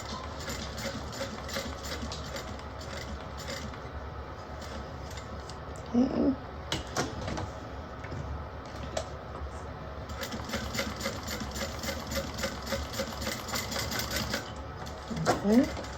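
A sewing machine top-stitches two rows along a bag, its rapid rhythmic clatter running close and steady in bursts, with a brief pause for handling and a voice talking over parts of it.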